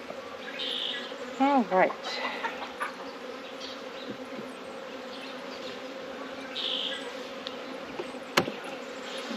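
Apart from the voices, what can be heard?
honey bees building comb in a hive box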